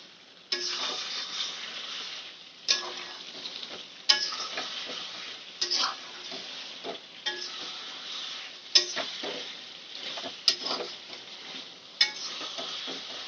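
Chicken fries in oil on a gas flame for a burnt-chilli chicken dish, with a soft continuous sizzle broken by repeated clinks and scrapes of a spoon stirring against the pan, close and without speech.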